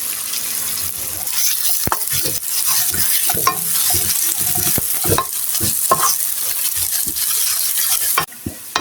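Onions for a chicken liver bhuna fry loudly in a pan, a constant close sizzle broken by repeated scraping stirs of a spatula, with no talking.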